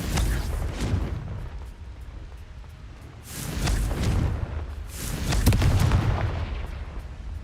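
Booming spell explosions from the Confringo blasting curse in the Hogwarts Legacy video game, three loud swelling blasts with rumbling low end, one near the start, another around the middle and a heavier one toward the end.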